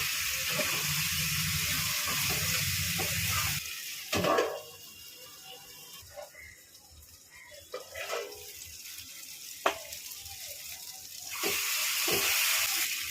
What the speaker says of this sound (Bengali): আমি আলুটা ভেজে রেখেছিলাম ওটা দিয়ে কষবো